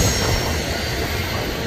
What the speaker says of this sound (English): I've never seen a train go through here.